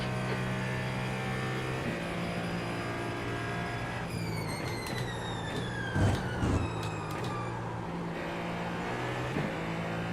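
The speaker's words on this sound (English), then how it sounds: "Can hear the tyres squeal there" High-pitched tyre squeal from a Ferrari 499P hypercar in iRacing, rising and bending over a steady engine drone, with a few brief louder bumps mid-way.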